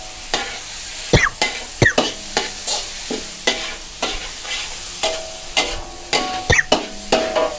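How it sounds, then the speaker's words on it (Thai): Squid bodies stir-fried over the highest heat for a Thai basil dish. Sharp, close sizzling bursts and quick metal scrapes come in an irregular rhythm as the pan is tossed and stirred. "ใส่ปลาหมึกนี่เอาแต่ตัวลงไปนะครับ"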